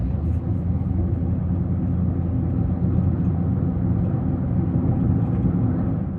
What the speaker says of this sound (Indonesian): Kita coba tarik, langsung kick down.